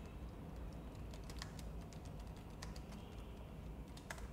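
Quiet, close typing on a computer keyboard: a light, irregular patter of key taps over a soft steady hiss, with no voices.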